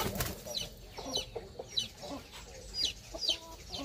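A Black Royal Italian line chicken on a breeding farm clucks in a series of short, close calls, several rapid clucks in quick succession with no talk.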